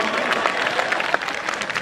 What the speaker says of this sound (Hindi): एक बार ताली बजा दीजिए तो मैं शुरू हो जाऊं